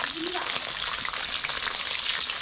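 Small frogs fry in a pan with a dense, continuous crackle and bubbling sizzle, loud and close, with a brief trace of voice near the start.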